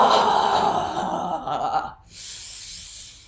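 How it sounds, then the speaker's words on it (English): A long, deep breath is drawn in and released in a relaxation exercise, a close airy rush followed by a softer hissing exhale. "Nice deep breath in."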